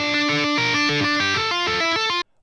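A heavily distorted electric guitar plays a fast looping riff, dense chugging and moving notes, loud and close, stopping abruptly into silence.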